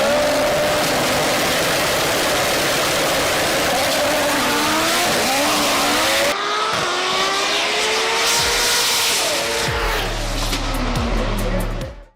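Drag racing cars accelerating hard down a quarter-mile strip, loud engine roar rising in pitch through gear changes, with a sharp cut to another launch and deep low rumble near the end.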